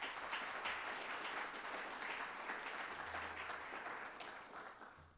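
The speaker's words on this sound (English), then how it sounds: "If you could give them a round of applause, please." A conference audience at an Africa Day business event breaks into sustained applause, many hands clapping steadily for about five seconds before the sound begins to taper off near the end.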